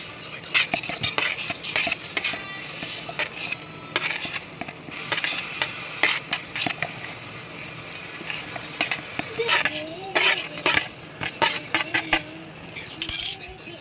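Spice ingredients for a mackerel curry paste go into a mixer jar: scattered clinks and taps of utensils against the jar and bowls, with rustling and patter in an irregular rhythm nearby.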